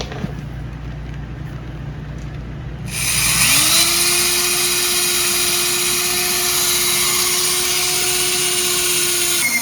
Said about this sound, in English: So let's get the hole drilled.